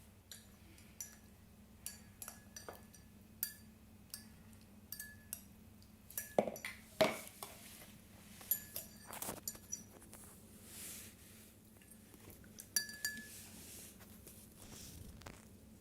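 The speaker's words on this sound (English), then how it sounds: "Now we add 2 spoons of honey and mix it properly" Spoon stirring two spoonfuls of honey into mint lemon juice in a glass, giving scattered light clinks and taps against the glass over faint background noise, with no talking.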